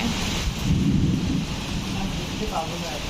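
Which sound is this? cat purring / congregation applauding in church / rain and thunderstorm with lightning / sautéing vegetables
rain and thunderstorm with lightning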